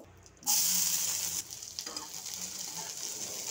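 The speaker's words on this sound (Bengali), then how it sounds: "এবার আমি একটু জিরে ফোড়ন দিয়ে পেঁয়াজ দিয়ে দেব।" Cumin seeds and onion hit hot oil in a pan, bursting into a loud sizzle that settles into a steady frying hiss with occasional stirring clinks.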